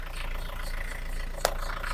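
A car engine with blowby idles steadily at a low, even rumble, joined by one brief sharp rattle near the end.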